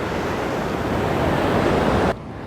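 Rough sea surf on a rainy Goa beach, a steady loud roar of breaking waves and wind filling the whole stretch before cutting off abruptly near the end.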